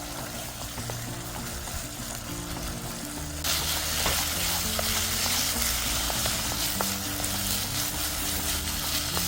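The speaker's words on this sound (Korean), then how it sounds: "여기다가 된장을 넣어줄 거예요. 이렇게 그래서 볶아주면 돼요" Doenjang sizzles in hot olive oil as it is stir-fried, a steady crackling fry that jumps louder partway through and continues evenly, with faint scraping of the stirring utensil and no voices.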